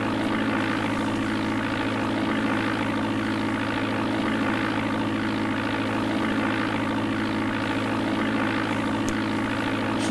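Propeller aircraft engine drone of a Beechcraft Starship in the DOS game Flight Simulator 4, a steady, even hum running unbroken and fairly loud from start to end with no voices.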